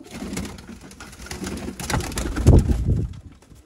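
Female Sialkoti pigeon cooing, soft low coos building to a louder burst around the middle, close by with faint background noise and no talk.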